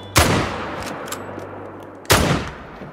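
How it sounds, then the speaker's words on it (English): Two loud rifle shots ring out about two seconds apart while hunting blacktail deer in the video game Call of the Wild, each one a sharp crack with a rolling echo and no talking. "All right, let's shoot some blacktail."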